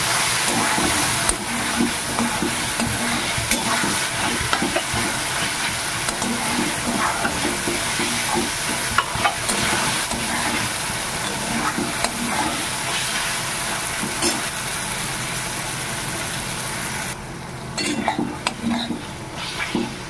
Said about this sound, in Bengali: মশলাটা খুব সুন্দর করে কষিয়ে নিয়েছি, টমেটোগুলো বেশ একটু নরম হয়েছে